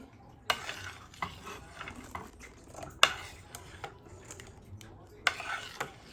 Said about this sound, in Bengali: এখন সব উপকরণগুলো এই তিনটা হলুদ শুকনো মরিচের গুঁড়ো আর লবণ এই তিনটা এখন মিক্সড করে দিচ্ছি ডালের সাথে